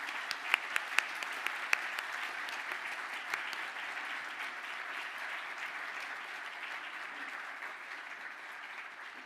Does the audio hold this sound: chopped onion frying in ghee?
no